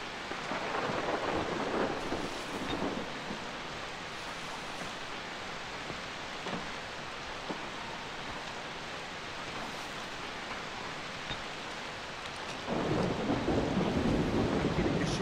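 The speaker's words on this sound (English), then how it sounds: "It's raining." Heavy rain pours in the Far Cry 3 video game, a dense steady hiss with low thunder rumbling underneath, loudest near the end and with no talking.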